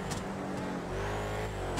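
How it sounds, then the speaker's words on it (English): A box truck driving in the GTA video game: a steady engine drone and road rumble fill the clip, the pitch lifting slightly midway as the truck accelerates, with no talk over it. "I'll drive this box truck right here."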